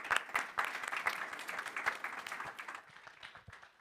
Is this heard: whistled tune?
no